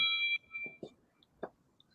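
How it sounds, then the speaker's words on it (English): Short electronic doorbell chime rings at the start, a bright sustained tone lasting under half a second, followed by a few soft knocks and faint speech-like sounds in a quiet room. "Somebody ringing the bell?"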